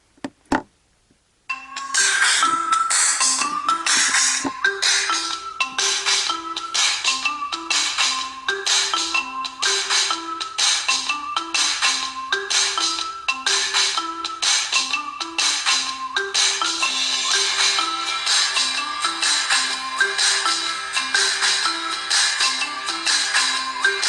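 A song plays through a cheap $5 portable speaker, a steady melodic loop with a thin, tinny, bright tone and little bass, loud and continuous after a brief quiet start.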